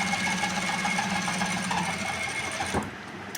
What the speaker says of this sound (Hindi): ये दूसरी सिलाई लगाई जा रही है